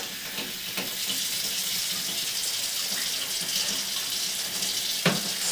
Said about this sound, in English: So I'm going to run a little bit of water to